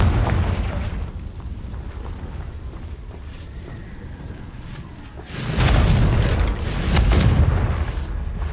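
In Hogwarts Legacy, a Confringo spell explosion lands as two loud, rumbling fiery blasts in close succession after a stretch of quieter game ambience.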